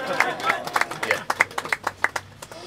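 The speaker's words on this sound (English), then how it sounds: "I hope you're not disappointed that Brian's applauding before I've even read it." A single person applauds in a short run of about a dozen sharp, fairly regular hand claps, close and clear, with faint talk in the background.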